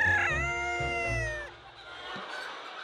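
White silkie chickens in a farm yard give a loud, drawn-out crowing call up close, followed by fainter clucking and yard noise.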